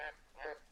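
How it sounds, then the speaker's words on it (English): Frogs in the jungle of the video game Green Hell giving two short, faint croaking calls, each a brief nasal rasp that sounds almost like a duck's quack. "Oh, there's a bunch of frogs."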